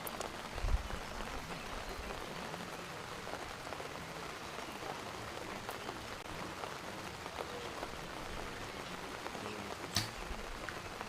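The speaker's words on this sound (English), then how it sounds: "You can just hear the rain coming down on the umbrellas and tents." Steady rain patters on umbrellas and tents at an outdoor competition, a faint, even hiss with occasional louder drips.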